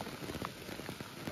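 Rain patters steadily on surfaces at the Matheran hill station, a dense, soft, close spatter of drops with scattered sharper ticks, continuous and alone without talk.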